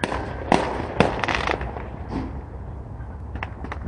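Fireworks bursting outdoors near a sheriff's training facility, loud cracks and booms with two sharp near blasts then a rumbling crackle and fainter pops trailing off, no talking.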